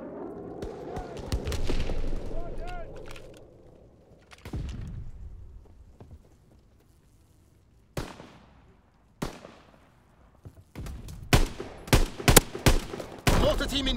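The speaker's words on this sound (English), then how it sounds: "Sending mortar rounds, zone and sweep." Mortar rounds and gunfire in Call of Duty WWII multiplayer: a sustained low rumble of distant fire gives way to quiet, then sharp separate blasts, and a dense flurry of close, loud shots and explosions crowds the final seconds.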